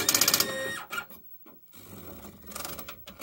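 Commodore DPS-1101 daisy-wheel printer striking characters like a typewriter, a rapid rattling burst of hammer strikes, a pause with carriage movement, then another run of clattering strikes, close and alone.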